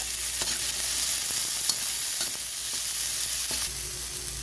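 Garlic and onions sauté in hot oil in a pan for sinigang na baboy, a steady close sizzle with occasional faint stirring clicks, no voices over it.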